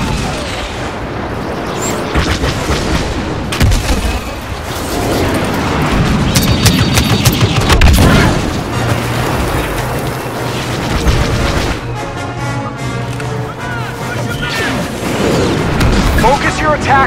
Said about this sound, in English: Bombers are making their attack run.